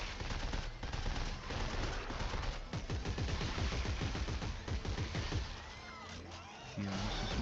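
Rapid bursts of automatic gunfire ring out during combat against enemies in Dead Space 3, the shots dense and continuous, close and loud, over a constant game soundscape with a brief lull near the end.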